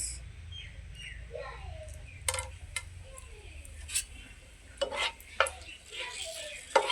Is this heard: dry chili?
yes